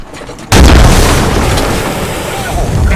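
A tank cannon firing in the military video game Squad: one sudden, very loud close boom after a quiet moment, followed by a long, dense roaring rumble that slowly tapers.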